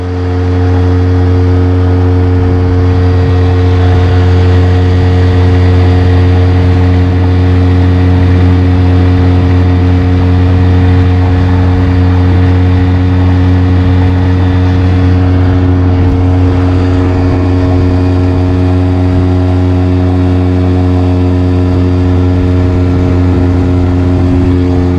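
A motorboat engine drones continuously upstream on the Moksha river, loud and close with a steady low hum and strong harmonic tones that hold even throughout, with no talking.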